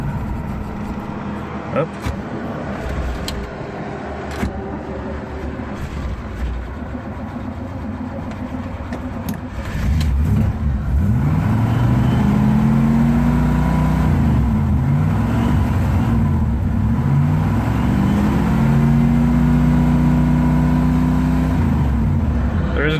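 A 1982 Camaro Z28 with no choke cranks, catches and settles into a loud, steady idle that rises and falls slightly, after a short spoken word over quieter background at the start.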